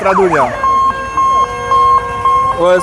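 Fire brigade truck siren from a volunteer fire unit in a harvest festival parade, a steady electronic wail pulsing in regular on-off bursts, fairly loud and close, with a brief blare of other vehicle horns at the start and end.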